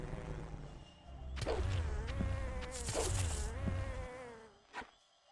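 An insect buzzes in the Gothic II video game, a wavering drone that sweeps in and out with whooshing passes for about four seconds, then stops, followed by a short sharp click.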